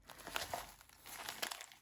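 A plastic warm pack bag, taken out from between two plant pots, crinkles and crumples in bursts of close, quiet handling across about two seconds.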